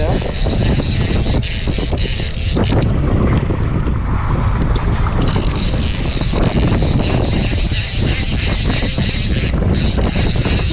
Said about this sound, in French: Je vais mettre un petit coup d'accélération.